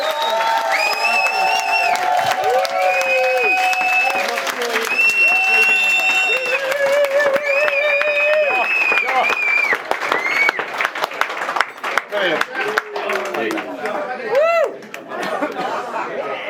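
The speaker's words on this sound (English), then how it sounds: "I just want to end this speech with a round of applause to really thank them" Wedding guests applaud after a reception speech, with clapping, chatter and raised voices from a crowded room running steadily for about sixteen seconds and a few cheers rising near the end.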